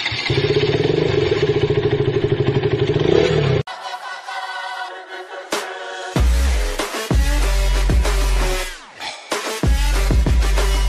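A Suzuki Gixxer motorcycle rides in third gear at around 30–35, its engine droning loud and close with shifting revs, wind buffeting and rattles cutting in partway through.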